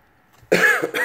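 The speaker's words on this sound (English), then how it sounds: "Excuse my cough too" A single sharp cough, close and loud, followed by a brief throaty rasp, after near silence.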